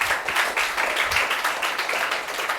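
Applause from an audience at a student felicitation ceremony, a steady dense wash of many hands clapping throughout, fairly close and continuous without pauses.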